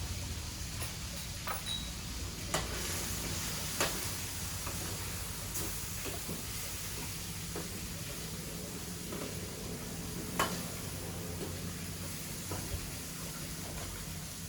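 Garlic, onions and chili pepper frying in a pan for paella, a steady hissing sizzle with scattered sharper crackles and pops running throughout, fairly close, with no voices.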